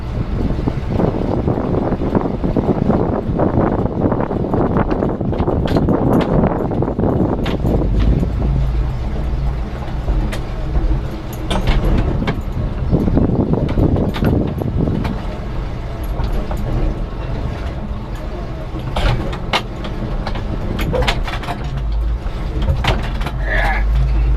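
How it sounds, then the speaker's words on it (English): Vehicle rumbling and jolting across ruts in a freshly ripped crossways area, steady low engine drone with bumps and rattles throughout, voices talking over it. "we're driving across ruts right now"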